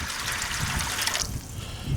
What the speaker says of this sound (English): I'm going to fill it in with some warm tap water right out of the sink.